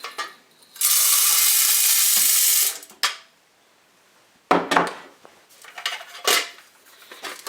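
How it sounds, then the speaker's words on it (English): Coffee beans are poured into a home roaster drum with a steady rushing hiss lasting about two seconds, followed by scattered rattles and metallic clinks of the drum and lid, close and without talk. "let's go ahead and dump our coffee in here"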